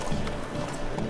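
Clip-clop of a horse's hooves in a fantasy game, a brisk steady rhythm close by, mixed with background music and ambience.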